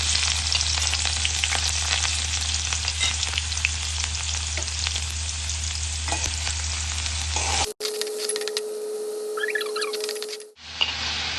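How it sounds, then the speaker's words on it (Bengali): Chopped onions frying in hot oil in a pan, a loud dense sizzle filling most of the stretch, then cutting to a quieter hiss with a faint steady tone and clinks, close up and without voices. "এখন একটি পাত্রে পরিমাণ মতো তেল দিয়ে দিব তেল গরম হলে দিয়ে দিচ্ছি পেঁয়াজ কুচি"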